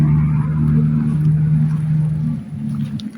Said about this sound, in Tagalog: Yan pa yung motor natin.